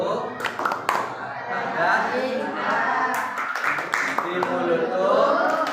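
Group of people clapping out the rhythmic 'tepuk sukses' success clap during a motivational training session, sharp claps punctuating a loud shared chant of voices.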